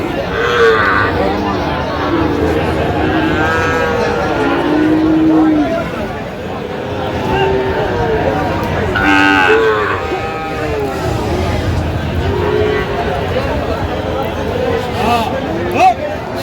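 A Sahiwal calf at a busy cattle market in Chattogram moos repeatedly over crowd chatter, while nearby people talk almost continuously.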